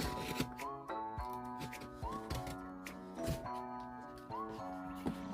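A knife slicing open a Taobao shipping package, heard as a series of sharp, close cuts and scratchy tearing strokes in an uneven rhythm, over continuous background music.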